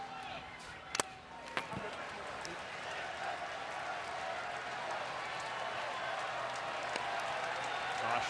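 A baseball crowd at a Tennessee vs Texas A&M game claps and cheers in a steady, broad roar that holds for several seconds and swells slightly near the end, with a couple of sharp pops early on and a commentator talking over it.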